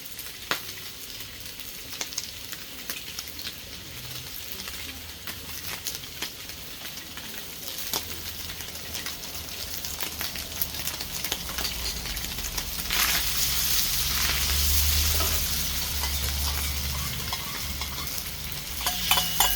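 Beef and vegetables stir-frying in oyster sauce, a sustained sizzle with scraping and clattering of the utensil in the pan, growing louder and more vigorous toward the end.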